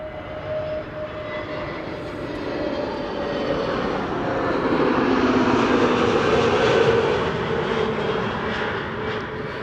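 Turkish Airlines jet landing on runway 06, the Kaagbaan, at Amsterdam Schiphol, a steady broadband engine roar with a whine that swells toward the middle and holds loud to the end.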